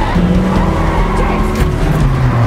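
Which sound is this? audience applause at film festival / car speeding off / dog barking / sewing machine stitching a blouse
car speeding off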